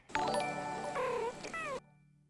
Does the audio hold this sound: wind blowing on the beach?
no